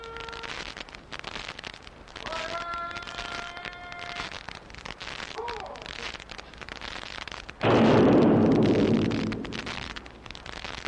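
A single heavy sunset gun cannon boom at a garrison retreat bursts out and rolls away in a decaying rumble, following a stretch of quieter ambient sound with faint tonal notes.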